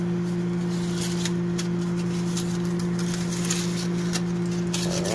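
Foil crinkles and rustles close up as it is peeled from baked Marie Callender's chicken pot pies, quick crackling bursts over a steady mechanical hum.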